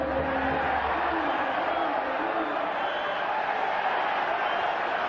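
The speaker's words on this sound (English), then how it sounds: "Crowd wanting a free kick against Busquets." A football stadium crowd at a Real Madrid versus FC Barcelona match roars in a dense, steady wash of voices appealing for a free kick, with a commentator talking over it.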